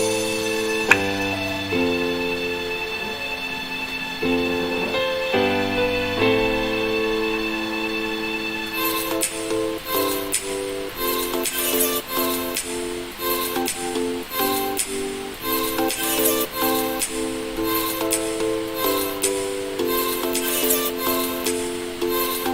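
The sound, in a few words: verse of produced electronic song demo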